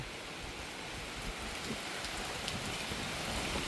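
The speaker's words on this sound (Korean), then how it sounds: "비가 지금 밑에 쪽은 이미 많이 오고 있다" Heavy rain pouring down over a construction site with freshly laid concrete paving, a dense, steady hiss with no pauses and no one speaking.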